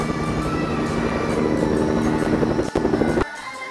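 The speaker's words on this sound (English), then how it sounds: "there's a heli above us." A helicopter in a video game thunders overhead with steady, loud rotor chop and engine roar. A sharp break interrupts it near the end before it continues more quietly.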